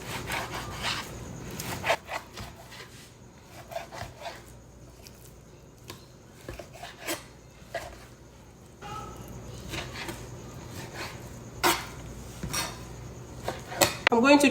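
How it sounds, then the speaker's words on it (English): A sharp knife slices through a piece of raw beef for suya kebab, giving repeated scraping, sawing strokes and taps of the blade against a cutting board, close and moderately loud, with no talking. "So I have one piece of my meat here, and I'm just going to cut it up."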